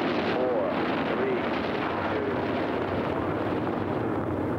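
Rocket engines roaring at launch, a steady broadband rumble that holds loud and unbroken throughout, with a faint whistling tone drifting in the background.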